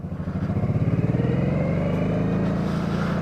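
A cruiser motorcycle rides along with a loud, close engine drone, a pulsing low thump that smooths into a steady hum with wind noise.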